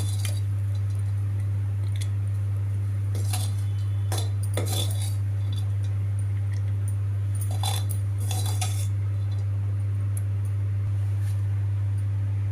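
Metal spoon scraping and clinking against a pan and serving bowl as dry fenugreek leaf and moong dal curry is transferred, sporadic close clatters over a steady low hum, no talking.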